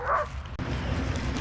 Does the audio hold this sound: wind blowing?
no